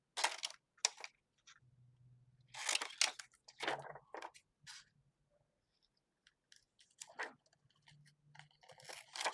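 Scissors cutting out a piece of craft foam, with a series of close, crisp snips in irregular bursts separated by quiet pauses and a faint hum.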